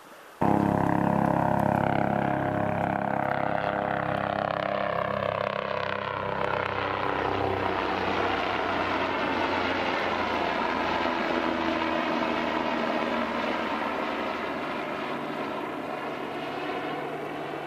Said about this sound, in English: Helicopter's going over.